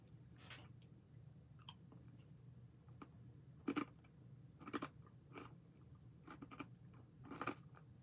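Someone bites and chews crunchy Ukrainian rye crackers, much like Melba toast, giving sharp close crunches at irregular intervals over a low background hum.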